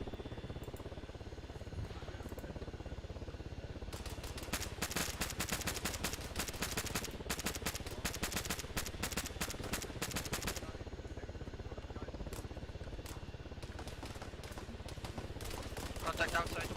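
Rapid bursts of automatic gunfire in ArmA 3, a dense crackling volley in the middle then scattered shots, heard at moderate distance under steady ambient noise.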